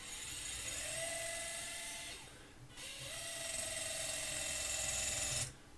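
Small electric motors on an RC Komatsu PC400 model excavator, powered through a step-up converter, whine steadily and faintly close by, cutting off briefly in the middle and again near the end.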